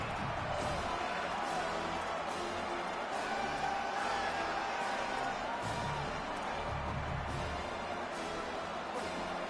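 A college football stadium crowd cheers and roars in a broad, continuous wash of noise that holds steady throughout, with no clear peaks.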